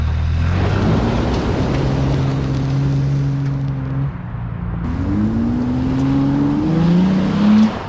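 A first-generation Toyota Tacoma pickup drives along on a test drive, its engine note rising through gears with rushing road and wind noise, close and continuous with no talking.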